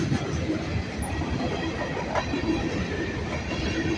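An unloaded Norfolk Southern freight train rolling past at night, a loud, continuous rumbling roar of wheels and cars with rattling clatter and faint intermittent squeal, steady throughout with no voices.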